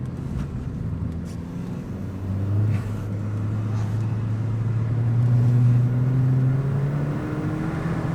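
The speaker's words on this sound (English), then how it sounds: "Feel that wheel spin." A Ford Fiesta ST180 spins its wheels on a race track, the engine droning loud and steady as the revs climb and hold in a rising, sustained roar.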